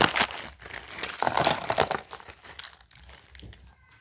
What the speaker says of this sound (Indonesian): Kerupuknya juga buka juga